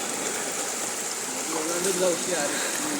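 Water of a small stream runs over stones in a continuous rushing wash, close by, with faint voices rising briefly in the middle.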